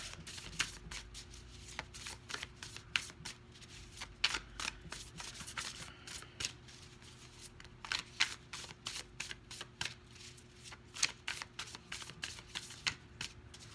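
Tarot cards being shuffled by hand, a steady run of crisp riffling flutters and soft slaps repeating close up for the whole stretch, with no talking.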